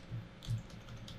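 Soft typing on a computer keyboard while entering text in Photoshop, a few quiet muffled keystrokes close by over a low background hum.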